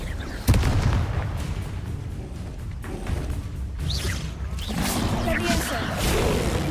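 An explosive fire spell in Hogwarts Legacy lands with a sudden sharp boom early on, then rumbling crackle and whooshing combat sounds continue loudly through the rest.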